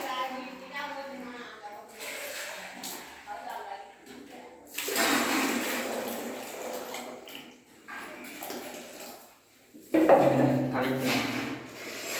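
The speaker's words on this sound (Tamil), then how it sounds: "ப்ரஷ் போட்டு கலக்கு." A brush stirs primer paint mixed with water in a tin with repeated scraping, swishing strokes that come in bursts. A voice talks between them.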